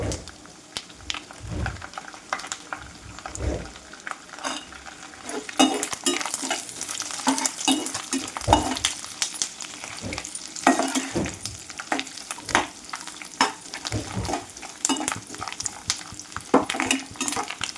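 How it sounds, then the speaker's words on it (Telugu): Cashews, grated coconut and raisins fry in a pan for coconut payasam, a close, continuous sizzle broken by frequent spoon stirs and scrapes against the metal. "జీడిపప్పు కొబ్బరి అయితే మంచిగా వేగిపోయింది అలానే కిస్మిస్ కూడా వేసాం కదా కిస్మిస్ కూడా వేగిపోయేంత వరకు అయితే వేయించుకోవాలి"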